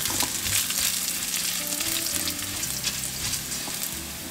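Dried chilies, garlic slices and Sichuan peppercorns sizzle in hot oil in a wok over low heat, a close, steady crackling fry with stirring scrapes running throughout.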